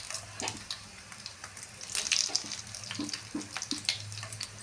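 Mustard seeds, urad dal, cumin and dried chillies fry in hot oil, giving a soft, crackly sizzle with scattered small pops and ticks, faint and close, with no talk.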